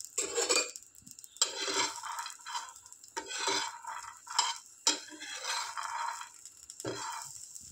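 Metal utensils scrape and clink against a pan in repeated bursts of stirring while roasting chickpeas and garlic, with a faint sizzle underneath and no talking.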